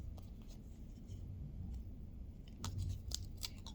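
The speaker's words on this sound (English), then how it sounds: "I'm going to cut out around this sticker that I created" Scissors cutting out around a handmade sticker for DIY Christmas gift tags, a soft, close snipping and rustling of paper that grows a little louder and crisper toward the end, with no talking.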